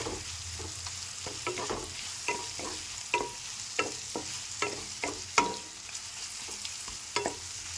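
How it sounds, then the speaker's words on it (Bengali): A spoon stirs ground chilli, cumin and coriander powder into snake gourd frying in a pan, making a steady soft sizzle broken by regular scraping strokes, close and without voices. "দিয়ে এবার এর সাথে আমি ভালো করে মিশিয়ে নেব।"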